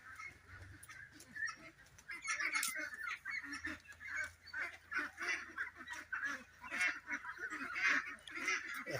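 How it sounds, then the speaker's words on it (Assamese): A large flock of about 170 farm ducks quacks continuously in a dense, overlapping chorus. The clamour is moderately close and steady throughout, with no speech. "170 পিচ হাঁহ আছে ইয়াতে"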